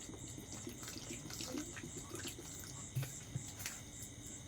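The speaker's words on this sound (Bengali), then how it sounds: "এই যে জল দিয়ে দেবো" Water poured into a dough mixture with sugar and salt, a faint, steady splashing trickle with a few soft drips near the end.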